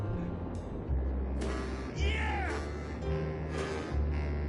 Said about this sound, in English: That's a good cat.